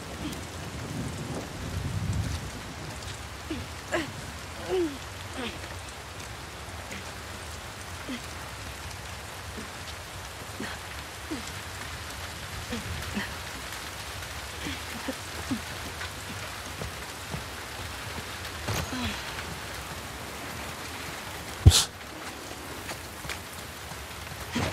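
Steady rainfall in The Last of Us Part II, a constant patter on surfaces with scattered drops, low rumbles of thunder and one sharp crack near the end.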